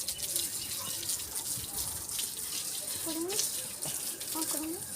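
A steady rush of water sprays from a garden hose without pause, while voices speak briefly in the background.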